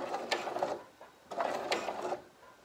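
A sewing machine stitches along a V neckline finished with bias tape, running in two short bursts of rapid mechanical whirring separated by a brief pause, close by.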